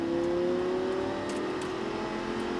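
A Lamborghini sports car engine revs hard at full throttle and holds a high, steady drone that climbs slightly in pitch, loud and close.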